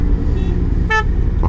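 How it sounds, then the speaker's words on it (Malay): A Harley-Davidson Street Glide motorcycle sounds one short, bright toot of its horn over the steady, loud rumble of the engine while riding. "Comel lah bunyi horn dia."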